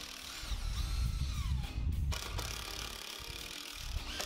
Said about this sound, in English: Just simply screwing this in place.